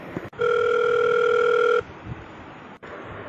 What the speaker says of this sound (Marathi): सबस्टेशनचा फोन पण एंगेज येतोय